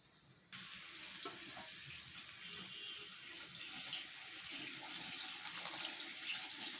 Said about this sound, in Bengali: এখানে আমি সামান্য একটু পানিও অ্যাড করব।